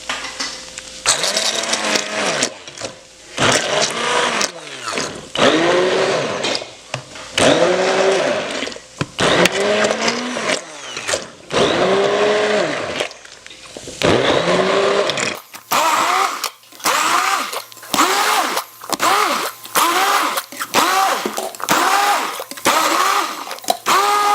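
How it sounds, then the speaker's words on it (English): A handheld blender whirs through tomato sauce in long, loud pulsing bursts, then in shorter, quicker pulses near the end. No voices are heard. "So we're just gonna blend all of this up until it becomes, you know, sauce, I guess."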